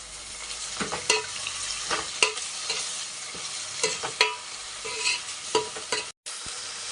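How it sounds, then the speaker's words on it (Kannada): Onion, kasuri methi and mint fry in a pan with a steady sizzle, punctuated by frequent rhythmic scrapes and clacks of a spatula stirring, with a brief cut to silence near the end. "ಅದು ಒಂದು ಸ್ವಲ್ಪ ಫ್ರೈ ಆಗಬೇಕು"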